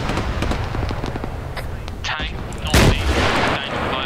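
An anti-tank gun fires in a 1980s Mujahideen-era combat video game, a heavy blast booming out amid scattered background gunfire and rumble, with a voice briefly heard.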